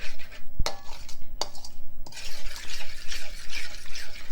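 A utensil stirs vegan, oil-free matzo cake batter in a bowl. There are a few sharp knocks against the bowl, then steady scraping and swishing. The sound is close and alone, with no talking.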